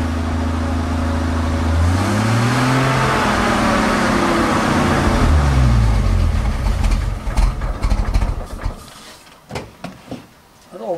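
A WW2-era GMC wood gas truck engine with a four-speed gearbox runs at idle, a steady low rumble with a throttle rise and fall, then it sputters and drops away near the end.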